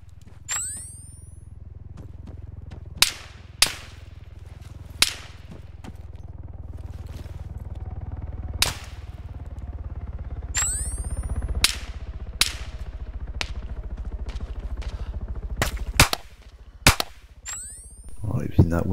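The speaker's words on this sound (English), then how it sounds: "Some big bullets is getting close." Gunfire and bullet impacts in a night mission of Arma 3 on Altis: sharp, scattered single cracks at irregular intervals over a low steady rumble, some distant and some close, with a few quick sequences near the end.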